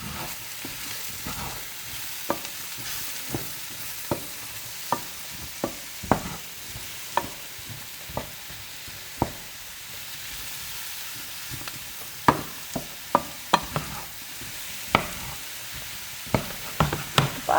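Brussels sprouts fry with mushrooms and bacon in a hot pan, a steady sizzle broken by repeated close scrapes and knocks of a stirring utensil.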